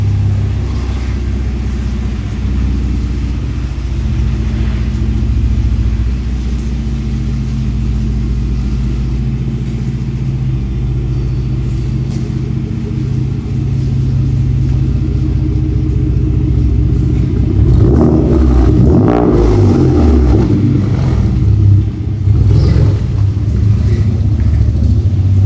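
V6 twin-turbo car with an AWE aftermarket exhaust driving off, a loud, deep, steady engine drone with throaty rumble that swells into revving bursts near the end.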